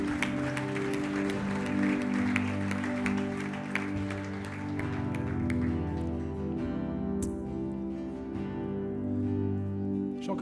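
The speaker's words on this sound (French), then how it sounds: "Est-ce qu'on peut applaudir ce qui vient de prendre place?" Church congregation applauding, a sustained mid-level patter of many hands clapping over a sustained organ or keyboard chord, gradually thinning toward the end.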